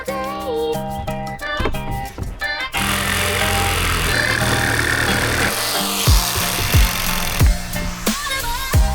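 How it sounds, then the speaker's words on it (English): A chainsaw steadily cutting through timber logs for a naturalistic reptile enclosure build, loud and close, with the engine note shifting as the blade bites and eases through the wood. "I'm gonna go chop some timber up, chainsaw some logs for some legs"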